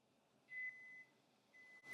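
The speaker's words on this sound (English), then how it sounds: "And there's our 2-minute timer" Kitchen timer going off while falafels fry in a pan, a clear high electronic tone sounding in two separate steady beeps, with a sharp click near the end.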